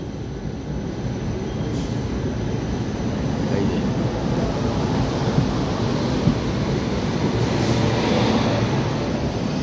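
The Azad Hind Express rolls through the Jharsuguda rail yard with a steady, broad rumble and rattle that holds at an even loudness throughout, with no voices.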